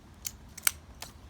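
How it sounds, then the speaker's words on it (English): Dahlia tuber tips being snipped off with scissors: three short, crisp clicks spaced across about a second, close and fairly quiet, with no talking. "So I'm just going to cut off these tips here again."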